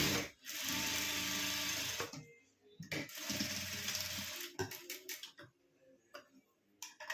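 A home sewing machine runs in a steady whirring burst as it stitches the edge of blouse-piece fabric. The motor stops briefly and starts again, then gives way to tapping and handling noises.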